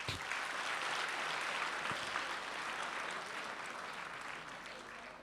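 An audience at a talk applauds a guest speaker with continuous clapping at a fairly low, distant-sounding level, fading gently over about five seconds.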